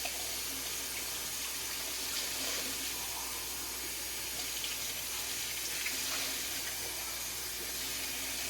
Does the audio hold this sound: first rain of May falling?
no